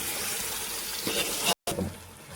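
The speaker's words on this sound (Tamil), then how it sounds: "இப்போ அரிசிக்கு தேவையான அளவு தண்ணி ஆட் பண்ணிடலாம்." Water is poured into a cooking pot for biryani rice, a faint steady gushing stream that is cut off briefly before resuming.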